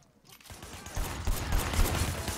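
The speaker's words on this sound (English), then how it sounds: "Shooting at the guys over there." Gunfire in the Sleeping Dogs video game: after a brief quiet start, dense rapid shots crackle in a loud, continuous volley with heavy low thumps.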